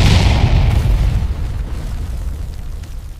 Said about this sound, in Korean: 건물 전체가 뒤흔들 정도의 폭발이 일어난다.